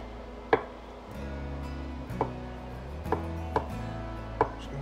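A knife roughly chops three boiled eggs on a cutting board, five or six distinct close thuds spaced unevenly over a faint background hum.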